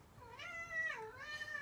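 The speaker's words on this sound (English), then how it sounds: "That's my cat." A cat meows in one drawn-out, wavering call lasting over a second, clear and fairly close, with no talking over it.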